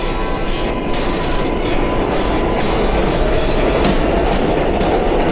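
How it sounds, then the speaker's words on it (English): A New York subway 7 train runs loudly from inside, with a dense steady rumble and rhythmic clickety-clack of wheels over rail joints, no talk. "Right now, we on the 7 train."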